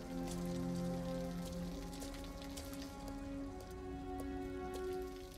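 Rain falls steadily in Detroit: Become Human, a constant patter on surfaces beneath a sustained low musical score.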